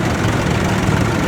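A Ford 5000 tractor idles at a steam rally showground, a steady low diesel throb running evenly beneath outdoor crowd murmur.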